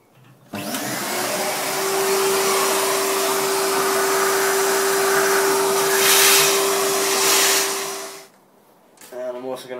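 A Henry vacuum cleaner starts up and runs with a steady, loud whine, pulling sanding dust off a turned wooden goblet, then shuts off near the end as a brief rattle follows.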